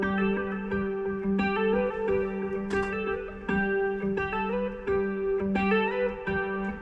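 A 1969 Gibson Les Paul Custom electric guitar plays a sustained chordal loop through reverb, ringing notes that overlap in a steady wash with faint rhythmic re-picking and no voices.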